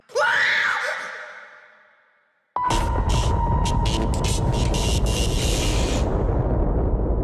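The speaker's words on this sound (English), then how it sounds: "This lady here that screams took me by surprise" A woman lets out a loud, rising-then-falling scream that fades away, followed by an abrupt shift into a dense droning roar with sharp stutters, from the OD game trailer.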